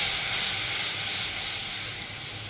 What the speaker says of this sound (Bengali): ঝোল বানানোর জন্য প্রয়োজন মতো জল এর মধ্যে দিয়ে দিচ্ছি।